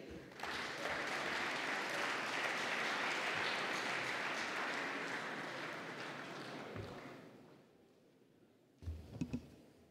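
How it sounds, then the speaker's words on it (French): An audience at a lunchtime talk applauds the arriving speaker Alexandre de Juniac, with broad, even clapping for about seven seconds that then thins and fades, leaving a few brief thumps near the end. "Merci de l'applaudir"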